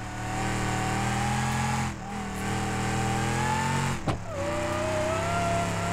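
Supercharged car in the BeamNG driving game, engine droning steadily with a high rising whine layered over its harmonics, briefly dipping twice as the throttle lifts, close and continuous with no talking.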